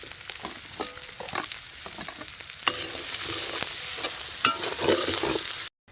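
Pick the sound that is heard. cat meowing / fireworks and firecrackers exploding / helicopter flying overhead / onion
onion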